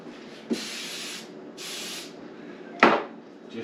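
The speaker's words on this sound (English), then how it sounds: "I'm just going to spray it a little bit with some pan" Short hissing sprays of cooking spray into a baking pan before cake mix cookie bars are spread, three bursts in close, quiet detail, with a couple of light knocks as the can or pan is handled.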